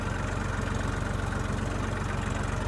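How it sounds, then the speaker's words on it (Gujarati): Massey Ferguson 241 tractor engine running steadily in a farm field, a continuous low, even chug with a rapid regular pulse, loud and close, with no talk over it. "મેસી ફેર્ગ્યુસન 241 આખા ખેતરમાં જો આંકવાનું છે આજ."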